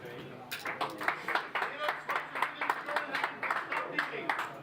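Applause at a poker tournament, the Winamax Poker Open Main Event in Bratislava, as a steady run of many hand claps from players and spectators, moderately distant, with a voice talking under it.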